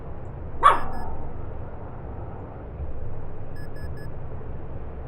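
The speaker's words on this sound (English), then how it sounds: "there's a bird outside, which is what she's barking at" A dog gives a single sharp bark at a bird outside, fairly close, followed by a low steady indoor background hum.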